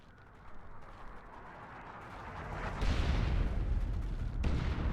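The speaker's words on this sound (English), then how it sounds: "Artillery, clear the area." An artillery barrage in Dawn of War 2, a dense rolling roar of shelling that swells and grows heavier midway, with a fresh burst near the end, loud and sustained without talk.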